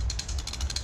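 Rapid, rhythmic mechanical ratcheting of a vintage D.A.M. Quick 330 spinning fishing reel being cranked, close and continuous with a gritty, gear-like texture.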